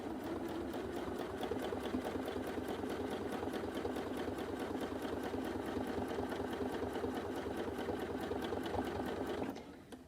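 A sewing machine stitches appliqué in a steady, fast, even mechanical rattle that runs close and alone for about nine seconds, then stops abruptly.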